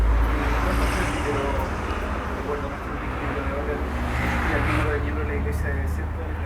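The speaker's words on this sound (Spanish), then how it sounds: "No te escuché porque pasó un auto fuerte" Loud car passing on a road outside, a broad steady roar of traffic noise that swells and lingers for several seconds.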